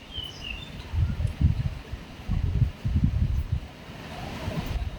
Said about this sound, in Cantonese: 好大風好大雨